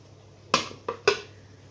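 Three metallic clanks as a lid is set onto a cooking pot of mutton on a gas stove, a loud strike, a lighter tap and a final ringing clatter, close and alone.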